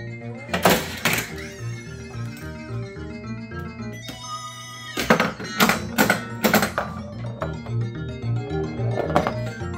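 A Williams Jokerz pinball machine being played gives off bright electronic music, chimes and tones, cut by solid thunks and knocks from the playfield, all fairly close.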